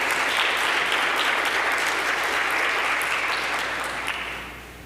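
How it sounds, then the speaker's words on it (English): A college forum audience gives a loud, full round of applause for a district commissioner, dense clapping that stays strong for several seconds before easing off at the end. "Let's give him a round of applause."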